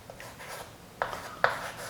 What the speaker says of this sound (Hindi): चलिए यहाँ लिखते हैं